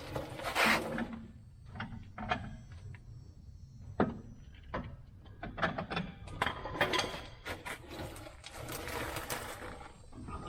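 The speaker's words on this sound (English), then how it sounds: "I'm going to lower the jack down until that's almost touching so I can get the bolt started in it" A car jack is lowered beneath the A-arm of a C3 Corvette during shock absorber replacement, giving a series of close irregular metallic clicks, creaks and ratcheting scrapes of moderate loudness, with no speech.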